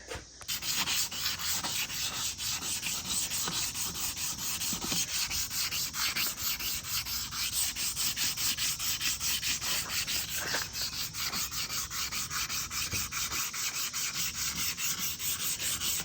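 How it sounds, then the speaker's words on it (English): A machined K1500 truck wheel hand sanded with 400 grit sandpaper, with continuous close, loud abrasive rubbing strokes in a rapid steady rhythm throughout and no talk. "I would definitely try and sand with the grain of the wheel"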